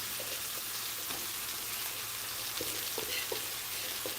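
Ridge gourd pieces sizzling as they fry in hot oil with chilli powder, a steady close crackle with occasional sharper pops and spatters over an even hiss.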